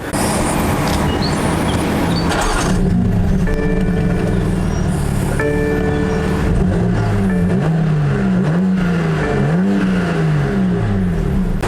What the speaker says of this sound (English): the exhaust that you just heard, which I think is quite singingly beautiful